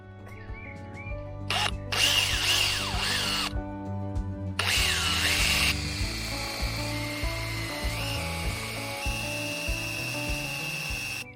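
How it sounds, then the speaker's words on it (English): A power drill bores a 1-inch hole through ash or hazel wood for a rustic garden ladder, with two loud whining bursts and then a lower, steady grinding as the bit cuts. "Next job is to drill a 1-inch hole"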